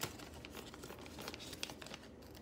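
Scissors cut a stripe out of a paper bag, making a steady, close, quiet crinkling and rustling with soft snipping and tearing textures throughout.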